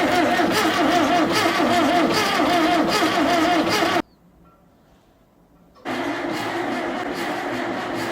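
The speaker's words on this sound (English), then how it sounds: "So we are ready to crank and see if she's gonna blow some smoke." An old, roughly 40-year-old CAT skidder diesel engine that had not run in years chugs loudly and roughly, cuts out to near silence for about two seconds, then catches and runs again close by.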